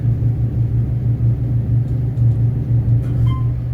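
A Baxter & Sons elevator at the G. Garson Theatre, Southern Methodist University in Dallas, runs with a loud, steady low motor hum and rumble that holds evenly throughout, heard from inside the car.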